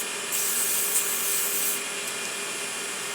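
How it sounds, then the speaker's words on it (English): Standard sandpaper rubs against a turned ferrule on a lathe, a steady hissing, airy scrape that runs for about a second and a half over a constant machine hum, then fades back to the hum. "And this is just really standard sandpaper."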